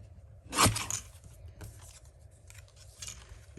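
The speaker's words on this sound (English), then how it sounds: "Use my little trimmer here." A small paper trimmer slices through stamped cardstock in one quick sharp cut, followed by fainter sliding and rubbing sounds nearby.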